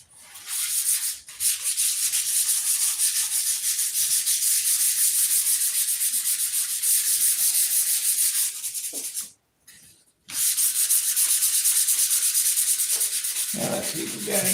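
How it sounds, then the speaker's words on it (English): Long steady wood sanding, a continuous close rasping hiss that runs almost unbroken, with one brief pause near the end and no talking. "There's so much sanding to do"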